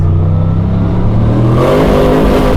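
A 900hp manual turbo LS Holden Commodore SSV accelerates hard, its engine note climbing steadily in pitch, loud and close throughout with no talking.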